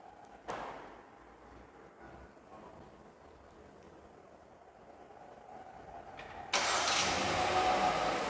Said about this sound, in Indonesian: Kita coba aja yuk nyalain mesinnya dari luar.